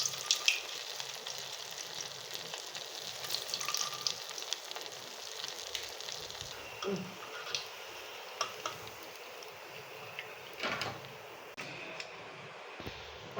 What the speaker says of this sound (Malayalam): ചൂടായതിനു ശേഷം പോപ്പ് സ്റ്റിക്ക് ഇഡ്ഡലി എണ്ണയിലോട്ട് ഇട്ട് കൊടുക്കാം.